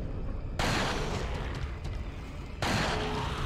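Two loud, booming gunshot blasts in Resident Evil 4, about two seconds apart, each sharp onset followed by a sustained rumbling echo.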